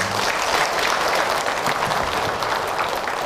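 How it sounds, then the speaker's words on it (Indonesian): A hall full of women clapping at the close of a religious lecture, a loud, dense burst of applause that holds steady throughout without spoken words. "Tepuk tangan Ibu untuk akhir."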